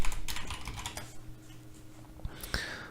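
Rapid, light clatter of fingers typing fast on a computer keyboard, a steady flurry of close keystrokes that thins out toward the end.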